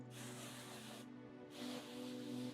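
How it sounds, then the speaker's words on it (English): Two hissing bursts from an avocado oil cooking spray can, the first about a second long, then a brief pause before a second longer spray. "I'm just going to open it and take some avocado oil spray"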